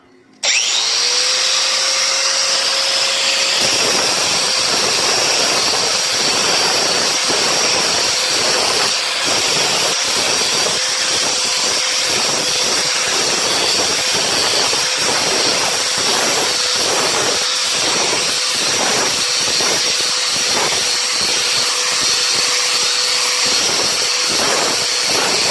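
A 4.5-inch angle grinder fitted with a 60-grit sandpaper flap wheel spins up and grinds the rough surface of a cast iron wok, a loud continuous high-pitched whine with a steady motor tone and gritty abrasive rasping, alone throughout.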